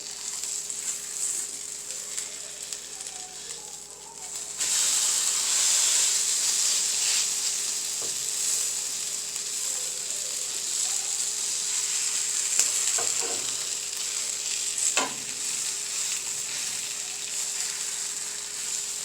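Veggie burgers sizzle and hiss steadily in a non-stick pan, frying noise growing louder after a few seconds, with occasional scraping clicks as the patties are moved around.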